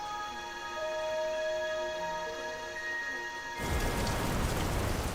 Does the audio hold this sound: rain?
yes